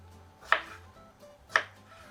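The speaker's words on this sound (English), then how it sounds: "I'm going to go ahead and start chopping up strawberries" Two crisp knife strikes of a blade chopping fresh strawberries on a cutting board, spaced about a second apart, close and clear over a low kitchen hum.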